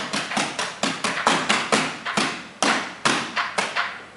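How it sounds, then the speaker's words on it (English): Māori poi struck as a percussion instrument at the Auckland War Museum, giving a steady run of about eighteen sharp, close thuds and taps in a brisk, even rhythm, heard alone with no talking. "And then the poi can also be used as a percussion instrument."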